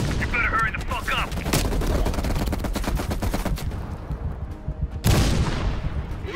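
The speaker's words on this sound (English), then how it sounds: "Heavy MG on the ridge." Heavy machine gun fire in the Call of Duty Black Ops Cold War campaign: a sustained rapid burst of loud automatic shots, then a sharp blast near the end, with faint voices under the gunfire.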